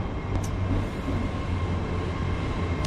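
A Nova train arriving at Bolton station, a steady low rumble and hum of the train drawing in nearby, continuous with a brief higher tone near the start.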